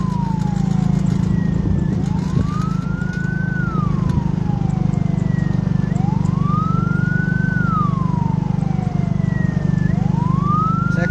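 Ambulance siren in a funeral procession to a village cemetery, wailing in long rising and falling sweeps that repeat steadily over a loud engine drone, close and continuous.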